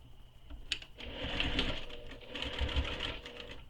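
Sewing machine running steadily while top stitching fabric pieces of a backpack, a close, continuous mechanical whir with brief pauses and restarts.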